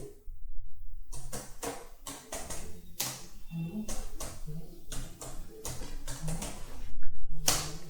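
Rapid keystrokes on a computer keyboard while a command is typed at a command prompt: close, crisp clicks in quick uneven bursts with short pauses, and a voice audible at times.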